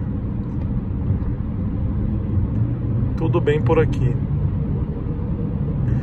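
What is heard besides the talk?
car engine braking in fourth gear downhill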